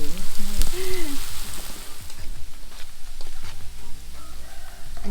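Ginger pieces deep frying in hot oil for a crispy fish dish, giving a steady, close crackling sizzle that runs throughout with small pops and light stirring, no talk over it.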